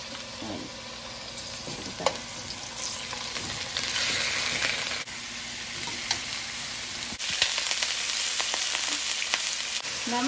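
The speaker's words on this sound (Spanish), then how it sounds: "El sartén ya está muy caliente con el aceite, así que a ponerlo." Chicken breasts fry in very hot oil in a pan, giving a steady loud sizzle and crackle with occasional sharper pops and stirring sounds, and no voices.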